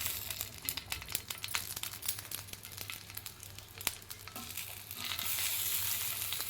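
Stuffed green chillies fry in oil over a low flame, giving a steady, close crackling sizzle with scattered pops that swells louder near the end; no one speaks.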